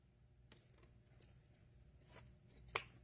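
Scissors cutting ribbon for a large black and gold bow, several faint, close snips and crisp rustles, the last one sharper. No one speaks.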